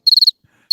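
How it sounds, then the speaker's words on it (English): A cricket gives a loud, close burst of about five rapid chirps, goes quiet briefly, then starts another quick run of chirps. "The crickets just kicked in and won't stop."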